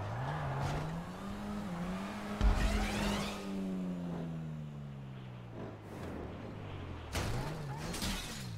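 A car engine in a video game revs and strains, its pitch rising and falling in long sweeps over several seconds, with bursts of tire squeal and skidding noise breaking in near the middle and end.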